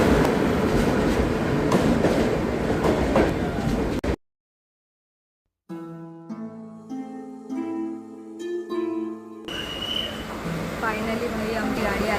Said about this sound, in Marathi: आमची गाडी आलेली आहे